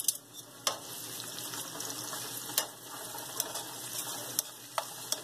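Garlic and chiles fry in very hot oil with a soft continuous sizzle broken by sharp, scattered pops and crackles, close and fairly quiet with no talking.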